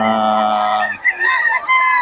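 A rooster crows loudly and close at a market in Bocaue, one long strained call that cuts off, followed by brief clucking sounds.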